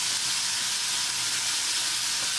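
Grated pumpkin frying in desi ghee in a kadai, giving a steady, close, continuous sizzle and hiss throughout with no talking.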